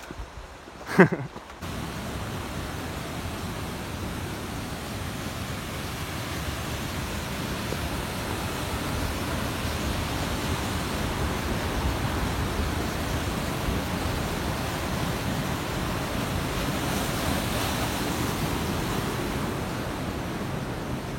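A steady, broadband rush of mountain waterfalls on the Vignemale in the Pyrenees fills the scene, constant and moderately loud, with a brief knock at the start.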